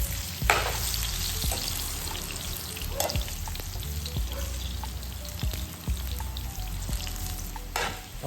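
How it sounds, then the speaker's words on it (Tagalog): Banana slices fry in hot oil, giving a dense, continuous crackling sizzle with scattered pops and occasional utensil clicks, close and fairly loud with no voices. "Iprito lamang po natin ito hanggang sa mag golden brown dito."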